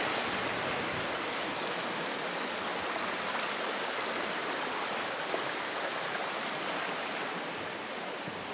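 Milton Creek, beside the Pacific Crest Trail, rushes past in a constant, dense wash of flowing water, close and loud throughout, with no talking.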